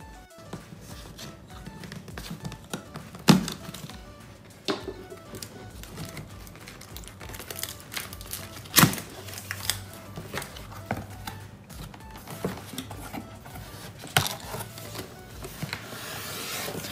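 Unboxing a Xiaomi Air Purifier 3, cardboard and plastic packaging rubbing, scraping and tapping in irregular bursts with a few sharper knocks, close and moderate, no talk over it.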